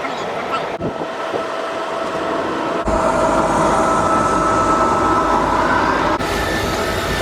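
A Eurotunnel shuttle train carrying cars rolls through the tunnel, heard from inside a BMW 520d on board. A steady heavy rumble with rail noise and a faint whine holds throughout, with an abrupt jump in loudness partway as the train's roar thickens.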